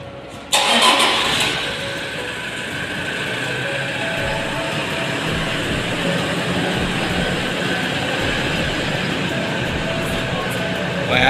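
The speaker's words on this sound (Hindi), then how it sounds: "स्टार्ट करो गाड़ी" A car in a hotel parking area cranks and fires up with a sharp start, then settles into a steady, close idle hum.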